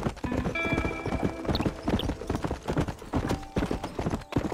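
Horse hooves clip-clopping in the Red Dead Redemption video game, a steady rapid rhythmic clatter of footfalls at moderate loudness, with faint game music tones in the background.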